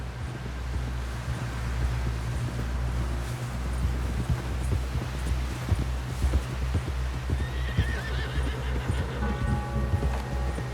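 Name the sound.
horse galloping and whinnying, video game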